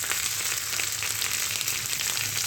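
Diced ingredients sautéing in a pan over high heat for a chilli tempeh dish, a steady close hiss and crackle of frying with no pauses.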